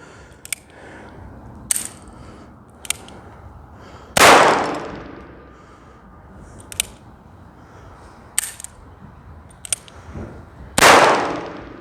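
A gun fired near a dog in gun-shyness training, two sharp loud shots with short ringing tails, separated by quieter metallic clicks of the gun being cocked and handled.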